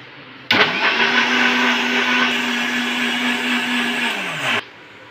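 An electric blender whirs through a thick mango and milk shake, starting abruptly, running at a steady loud pitch for about four seconds, then cutting off.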